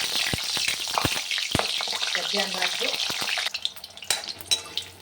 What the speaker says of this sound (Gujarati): તેલ ગરમ થાય એટલે આપણે પેલા મરચાંને તળી લઈએ